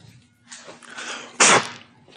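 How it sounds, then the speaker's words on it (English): A sharp burst of air blown over a lock miter router bit to clear dust, loud and close, lasting a fraction of a second amid quieter room noise. "That was me blowing the dust off of the lock miter."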